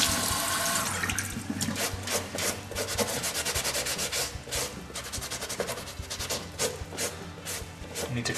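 Water rinsing and cloth rubbing over a Nike Hypervenom Phantom II football boot, a steady wet scrubbing with running-water hiss that continues throughout, close and fairly loud, with no talking.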